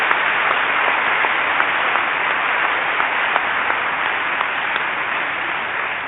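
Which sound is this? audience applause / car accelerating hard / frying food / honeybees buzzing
audience applause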